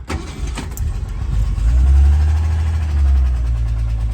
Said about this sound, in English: I'm going to start it up for you now.